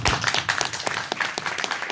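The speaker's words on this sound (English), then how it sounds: "please give a round of applause to Mark" Audience applauding a speaker at an agricultural meeting in Bangkok, a short burst of scattered, fairly faint clapping from a modest crowd.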